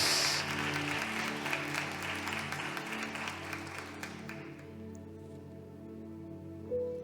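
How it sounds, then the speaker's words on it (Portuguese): A church congregation applauds for several seconds, a dense patter of clapping that thins and fades out toward the end, leaving a quieter room. "Pode aplaudir Jesus mais uma vez?"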